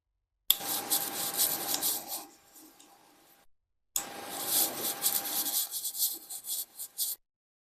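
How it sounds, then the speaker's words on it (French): A screwdriver drives a screw into parts of a 1/6 scale Renault R8 Gordini model, making two close, raspy turning and scraping bursts separated by a short pause. "Il ne reste plus qu'à visser."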